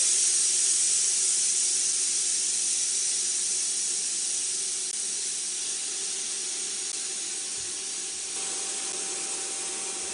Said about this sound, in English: So you might have noticed a little bit of steam coming out from the sides here.